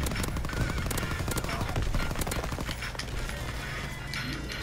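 Automatic gunfire from a PPSh-41 in Call of Duty WWII gameplay, dense overlapping bursts and crashes that fill the whole stretch at a loud, constant level.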